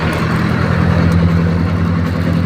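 A Japanese jeep engine runs close by on a dark road, a steady loud rumble with a low throbbing hum held for a few seconds.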